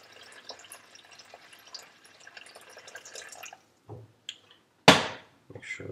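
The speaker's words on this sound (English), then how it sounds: "right into the strainer, right through this towel" Chicken stock is poured into a strainer lined with a towel, giving a soft, continuous trickle of liquid that stops partway through, followed by a few faint drips and one sharp, loud splash.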